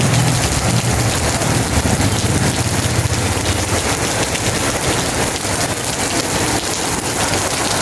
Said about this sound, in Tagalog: At ang lakas po ng ulan.